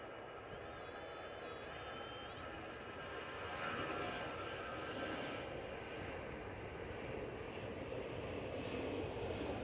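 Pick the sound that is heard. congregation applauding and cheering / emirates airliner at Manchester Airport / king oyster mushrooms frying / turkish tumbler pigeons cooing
emirates airliner at Manchester Airport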